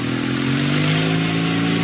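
A motorcycle engine drones steadily and loudly close by, a continuous hum with no speech over it.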